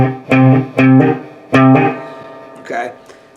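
Electric guitar with effects, a beginner plucking single notes with strings not pressed down firmly: four short notes that each cut off quickly with a dull, buzzy decay, followed by a fainter muted pluck.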